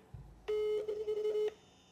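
Dialing a telephone call: a clear electronic tone begins abruptly, wavers slightly and holds for about a second before cutting off, close and fairly loud, following a soft thump, with no voices.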